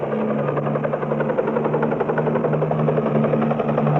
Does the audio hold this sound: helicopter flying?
yes